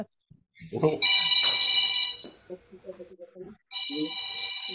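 A telephone rings with a loud electronic trill in two bursts, separated by a short stretch of speech in a room, with a voice also heard just before the first ring.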